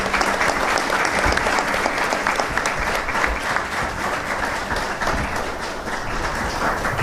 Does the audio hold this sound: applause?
yes